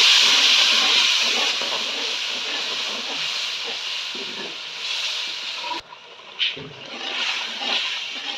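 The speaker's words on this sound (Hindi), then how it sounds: "दही को अच्छे से भून लें मसाले के साथ" A yogurt paste with spices fries in a pan with roasted potatoes, giving a loud, continuous sizzling hiss that eases slightly over time. Brief clatters and stirring noises break in near the end.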